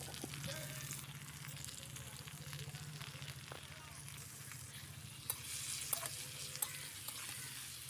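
Vegetables for shukto sizzle steadily in a pan while being stirred, with a constant frying hiss and occasional scraping of the spatula, close and moderately quiet, and no speech.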